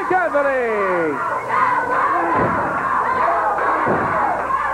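Wrestling crowd cheering and shouting for the tag team champions Gaylord and Anthony, a loud, sustained roar of many voices with whoops and yells throughout.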